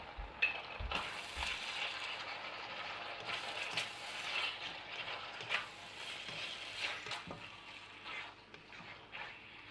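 Beef stir frying with soy sauce and brown sugar sizzles steadily in a hot pan, with scattered scrapes and clatters from stirring over the constant crackle.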